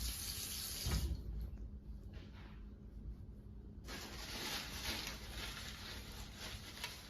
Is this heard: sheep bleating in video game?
no